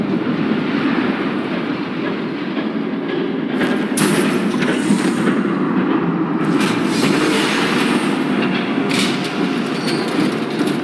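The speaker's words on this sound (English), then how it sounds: "There's a train coming." Train rumbling past in the Batman: The Telltale Series video game, a loud continuous roar with rattling, clattering wagon noise sustained for the whole stretch, no voices over it.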